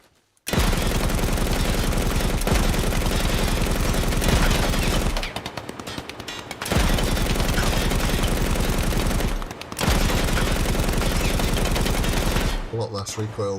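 A PKM machine gun fires in Ground Branch, long loud sustained bursts of rapid automatic gunfire separated by brief pauses, close and dominating.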